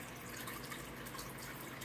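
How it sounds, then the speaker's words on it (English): A small aquarium waterfall driven by a Tetra internal power filter in a home tank: steady, close splashing and trickling water that continues without a break. "I got this Tetra internal power filter that I made this waterfall with."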